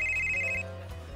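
A telephone rings briefly with a short electronic ringtone, bright sustained tones lasting about a second, loud and alone without speech.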